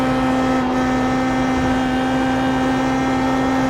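Steady Pm18 open-wheel race car engine in iRacing at Watkins Glen, a constant mid-range drone with a held pitch and no shifts, loud and close with no talking.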